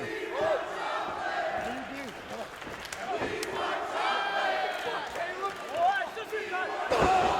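A wrestling crowd in Cleveland cheers and shouts continuously as a dense roar, with occasional thuds from the ring and a commentator talking over the noise.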